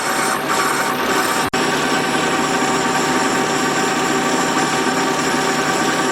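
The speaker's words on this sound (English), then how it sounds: "we're getting a nice finish, and we're pulling a nice chip off there" A lathe takes a machining cut on a Cummins 4BT to SM465 transmission adapter plate for a Willys Jeep, giving a loud, steady, close mechanical drone with a constant hum and one brief dropout.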